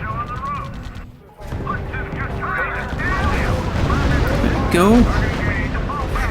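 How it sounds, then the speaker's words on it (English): Heavy gunfire and artillery rumble through a battle in the strategy game RUSE. Dense, continuous firing and booms fill the scene, broken by whistling tones, while short voiced unit callouts speak over the din. "Unit reports heavy fire."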